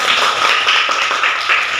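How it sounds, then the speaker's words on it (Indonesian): Schoolchildren clapping in a classroom during a math lesson, a short, loud burst of dense applause that holds steady for about two seconds with no talking. "Berikan tepuk tangan."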